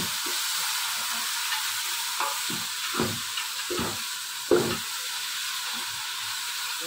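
Tomatoes frying in a pan for a homemade curry, a constant moderate sizzle broken by several soft scraping knocks from stirring, no voices.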